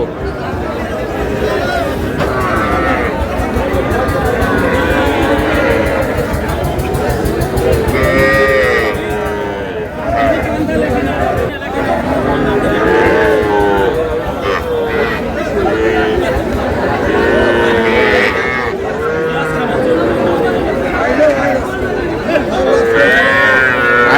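Cattle, small bulls and heifer calves, low and moo at a livestock market at Aftabganj, amid a busy crowd, with constant chatter and babble filling the background throughout.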